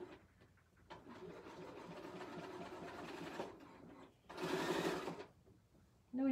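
A Bernina sewing machine stitches an irregular shape in steady bursts of rapid mechanical whirring, with a louder, faster run near the end and quiet talk around it.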